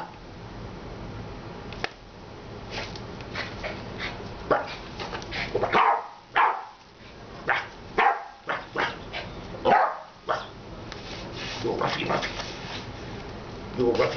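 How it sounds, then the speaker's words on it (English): A dog barks several times in short, irregular bursts close by, mixed with a person coaxing it with repeated spoken encouragement. "Come on, bark for the camera."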